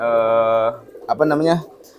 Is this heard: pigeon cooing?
yes